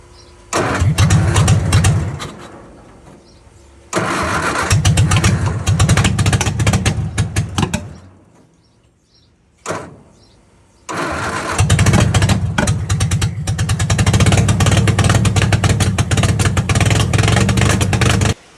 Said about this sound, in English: I'm gonna see if I can throttle it up the idle a little bit.